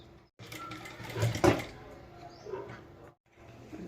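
A sewing machine stitches a cotton pillow cover in short, quiet bursts of rapid mechanical whirring separated by brief pauses.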